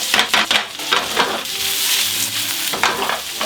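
Food browning in a hot frying pan, a steady loud sizzle with intermittent stirring and scraping bursts, no voices.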